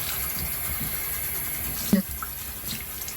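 Cool tap water runs and trickles as skin is rinsed, a soft steady flow with one brief splash partway through, close by and with no speech.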